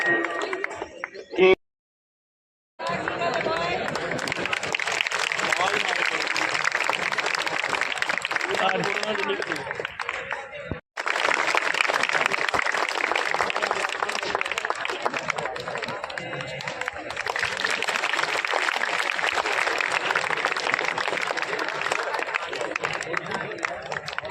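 A crowd claps continuously at a government senior secondary school ceremony in Bhangala honouring a merit-list student, a thick, even wash of hands broken by a short silent gap near the start and a brief dip midway, with murmuring voices underneath.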